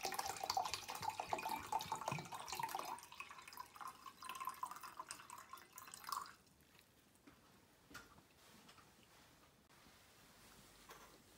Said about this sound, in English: In the large beaker we used for the Döbereiner's lamp, we pour approximately 400 milliliters of distilled water.